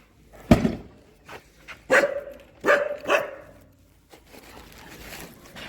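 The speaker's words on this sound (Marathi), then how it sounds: "बघा मला बघून कसं भुकत असते." A street dog barks several times in short, sharp bursts, fairly close, with brief pauses between barks and quiet street noise afterward.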